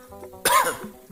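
A narrator telling a Sundanese folk tale gives a single short, sharp cough close to the mic, set against quiet surroundings.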